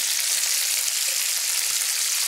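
Pancetta sizzles loudly and continuously in a hot pan with green beans, a close, dense hiss with no voices.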